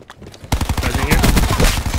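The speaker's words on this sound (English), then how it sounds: "Oh, someone else shooting?" A burst of automatic gunfire in Call of Duty Black Ops 4 starts abruptly after a quiet moment and continues as a loud, rapid, steady rattle, with voices faintly mixed underneath.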